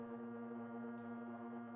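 A pitched-down atmospheric ambience pad drones quietly and steadily, a low sustained tonal hum with faint airy hiss and a brief soft breath of noise midway.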